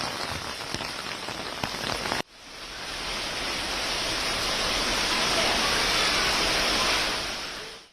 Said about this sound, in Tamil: கோவையின் ஒரு சில பகுதிகளில் இன்று மிதமான மழை பெய்தது